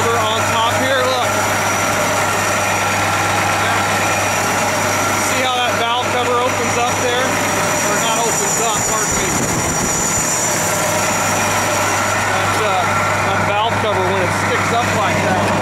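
A Detroit Diesel Series 60 12.7-liter inline-six in a bus idles with a steady low rumble, heard near and continuous under someone talking.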